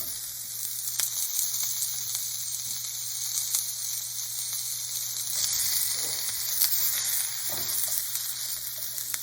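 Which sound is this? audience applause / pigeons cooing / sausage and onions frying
sausage and onions frying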